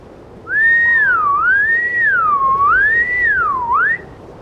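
A person whistles to imitate a killer whale, a loud clear tone that swoops up and down in smooth repeated glides for about three and a half seconds, heard alone and close.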